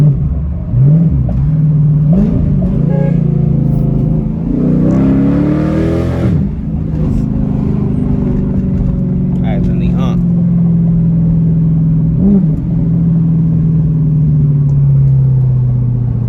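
A widebody all-wheel-drive Dodge Charger Pursuit revs and pulls while driving downtown at night, its engine rising and falling in loud, close, deep surges with a sustained drone, and someone talks over it.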